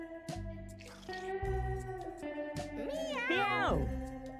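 A cartoonish meow from the Mewgenics video game rises and falls in a wavering pitch late in the clip, over sustained game music tones.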